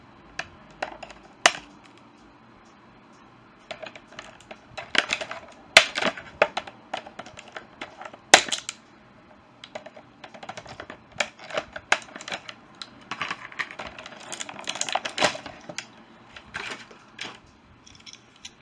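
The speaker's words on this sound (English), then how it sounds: "Let's switch to a pair of scissors." Sharp, irregular snips and clicks of scissors cutting toy packaging, clustered in bursts with short pauses, fairly close and with no talking.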